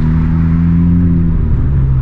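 A Honda Civic Type R engine idles while warming up, a loud, steady, close droning hum with a slight pitch drop near the end.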